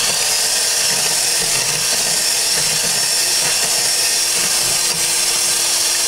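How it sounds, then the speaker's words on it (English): An electric mixer blends cake batter: a loud, steady motor whir with a constant high buzz, running without a break and alone. "I'm going to give this a quick blend."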